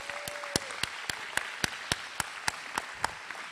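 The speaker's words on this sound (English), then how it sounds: "Let's give him a round of applause." Audience applause at a Class of 2023 graduation ceremony: a continuous crowd clapping bed with loud, evenly spaced single claps punching through close by, sustained throughout.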